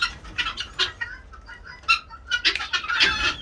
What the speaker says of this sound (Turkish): şu horozu yakalayacağım